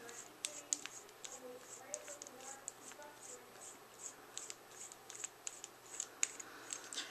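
Long threads of a white Sir Lancelot mechanical mod being unscrewed, a faint, close series of small metallic clicks and scratchy ticks repeating steadily at a quiet level.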